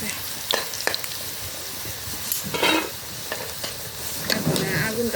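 Potatoes fry for biryani in a pan over an outdoor brick stove, hissing in a continuous sizzle while a utensil stirs and scrapes in irregular knocks, close by.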